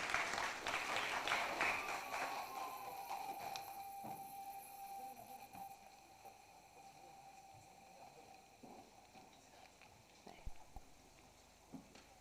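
An audience at a speech competition grand finale claps loudly for a few seconds. The applause fades into quieter room noise with scattered faint claps and rustling.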